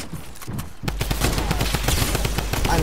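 Sniper rifle gunshots in an online shooter video game, coming as a dense, rapid burst of sharp cracks over constant game noise, with no clear speech.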